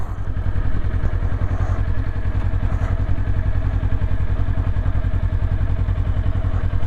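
Kawasaki Ninja 400 ridden by a beginner, its engine a steady, loud, continuous drone with a rhythmic low pulse, running close and unbroken throughout with no talk over it.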